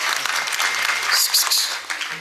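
Audience clapping at a kirtan, a dense sustained burst of many hands applauding together, loud and close, fading slightly toward the end.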